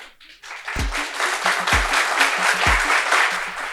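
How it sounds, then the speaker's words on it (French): A studio audience applauds steadily and fairly close, a dense patter of clapping rising quickly and holding, punctuated by a few deep thumps. "dans ce charmant public à qui je vais demander de s'applaudir encore une fois de plus"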